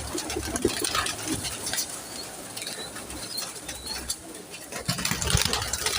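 Pigeons coo softly amid fluttering wingbeats, with a steady mechanical hum in the background.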